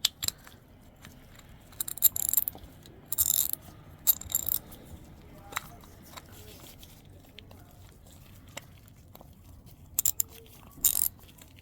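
A Proto Challenger 1260 ratchet, serviced after having seized, clicks in several short bursts of rapid pawl ticks with quiet gaps between them, close and crisp, spread over about ten seconds.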